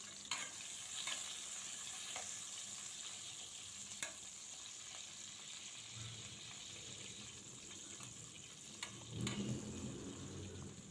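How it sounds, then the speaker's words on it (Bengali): Slices of brinjal (eggplant) coated in turmeric frying in oil on a stove, a low continuous sizzle with occasional clicks and a stirring scrape near the end, no talking. "বেগুনগুলো চুলাতে দিয়ে দিলাম।"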